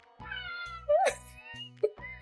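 A cat gives several short meows, close and clear, with a higher rising cry near the middle and two quick chirps at the end, over a soft low background hum.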